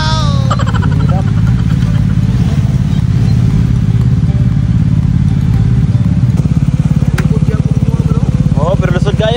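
Motorcycles ride along a dusty road in a loud, continuous engine roar with rattling and wind buffeting, a close drone that never lets up while people talk over it.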